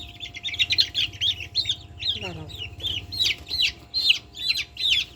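Sonali chickens cluck and chirp repeatedly in a steady, busy rhythm, close by, with a brief descending squawk partway through and low background noise.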